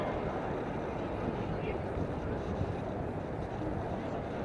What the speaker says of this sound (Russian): Один из них сейчас летел и пилотирует опытный экипаж